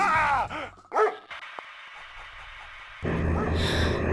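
Dogs in the strategy game Command and Conquer Red Alert 2 let out a quick run of close yips and barks in the opening second, then give way to steady game ambience and a louder swell of music.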